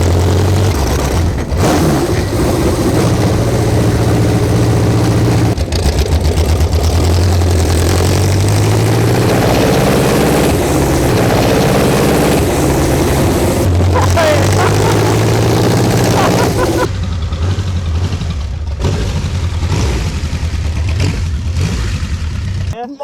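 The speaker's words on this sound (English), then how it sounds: "I got a ride up the hill in the Romano Aero-Engine Special" The Romano Aero-Engine Special, an aero-engined racing car, roars up the Prescott hill climb with a loud, sustained engine drone that rises and falls through gear changes, heard close and continuous throughout.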